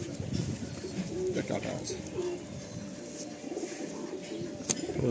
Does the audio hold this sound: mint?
no